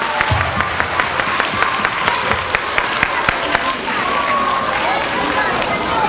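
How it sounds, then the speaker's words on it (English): Children and staff applauding at an elementary school reading-month assembly, loud sustained clapping with distinct sharp claps standing out, a faint voice breaking in late as it tapers. "let's give everybody a round of applause"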